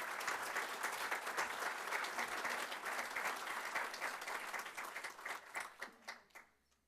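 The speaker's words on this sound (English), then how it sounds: "let's give them one more round of applause." Applause from an award ceremony audience honouring a student of the year, a dense steady round of clapping that holds for several seconds before thinning into a few last claps and fading out.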